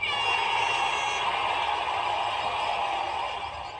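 A steady, continuous buzzer tone sounds during a full-body HIIT cardio workout, holding at an even loudness for several seconds before easing slightly at the end, with no talking over it.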